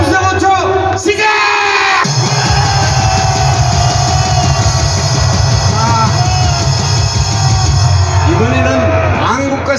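A large crowd at a Korean political rally roars and yells together, loud and sustained, with a brief pause before the cheering swells again.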